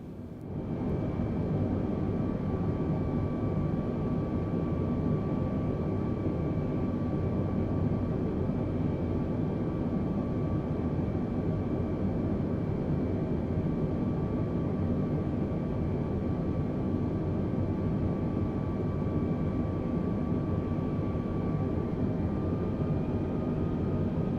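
A large plane's engine droning steadily in Microsoft Flight Simulator, a constant low roar with a faint whining tone above it, unbroken and even for the whole stretch.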